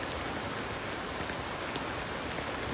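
A downpour of heavy rain hisses steadily and loudly throughout near a swollen river in Daraitan, with no voices and no let-up.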